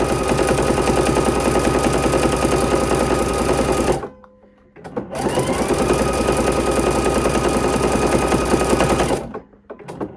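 A sewing machine runs fast and steady, stitching satin trim onto a fleece blanket, with a loud continuous whirring hum that stops briefly partway through, restarts and runs on before cutting off near the end; no talking.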